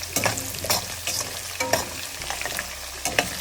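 Chopped onion and finely cut garlic frying in a pan for tomato rice, a steady sizzle broken by repeated scraping stirs of a spoon against the pan, close and moderately loud with no talking.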